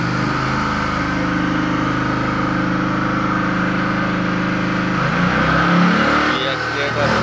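A car engine fitted with a hydrogen gas kit and compressor runs close by with a steady throbbing drone that shifts briefly as the accelerator is worked near the end, while someone talks over it.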